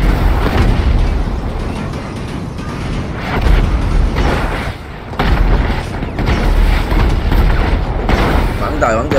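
Gunfire is shot into the sky in GTA 5, heavy booming blasts and rumbling bursts layered close and loud, with someone talking excitedly over the shooting throughout.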